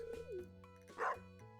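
A dog barks in the farming video game Stardew Valley: one short, quiet, game-style yap and a brief tonal call, heard alone with no talk.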